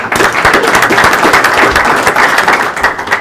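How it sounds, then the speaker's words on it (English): A crowd at a legislative breakfast applauds steadily, dense clapping filling the whole moment at full volume. "Give him a round of applause."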